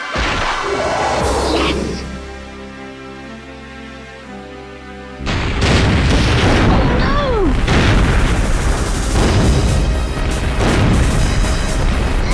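Gunfire and explosions in the Perfect Dark video game, Skedar Ruins level: a louder burst of dense crashing booms and shots follows a quieter stretch, continuing heavily to the end.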